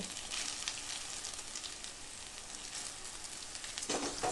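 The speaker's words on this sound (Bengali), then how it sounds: "সবজিগুলো সেদ্ধ হওয়া পর্যন্ত ভেজে নেব এখন এর মধ্যে সেদ্ধ করে রাখা চাউটা দিয়ে দেব" Vegetables and boiled chow mein noodles fry in a pan for chicken chow mein, giving a steady, close sizzle that runs throughout with no pause or talk.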